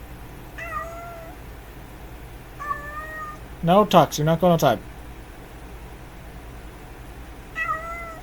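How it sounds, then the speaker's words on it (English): Tux, a house cat, meows three separate times, each a rising and falling call, indoors at night, fairly close and moderately loud. A person speaks to the cat between the first two meows and the last one. "the cat's meowing"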